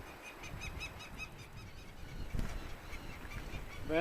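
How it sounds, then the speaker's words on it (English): Birds call with faint, repeated honking notes through the wind on a rocky island climb, rising a little louder at the very end. "Birds are going off."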